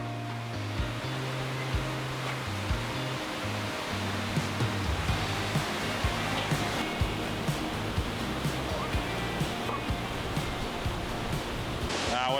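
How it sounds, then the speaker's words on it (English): A constant roar of a waterfall fills the scene, broad and unbroken, with a few faint knocks and movements beneath it. "looking forward to seeing this waterfall."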